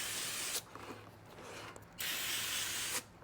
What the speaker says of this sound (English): take some brake clean, just spray it off real good